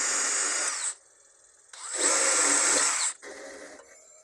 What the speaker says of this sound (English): spin that up. Hit with this wire brush, clean it up a little.